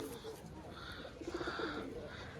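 High-quality old-breed pigeons coo nearby in soft, repeated low throaty phrases that swell toward the middle, mixed with a voice.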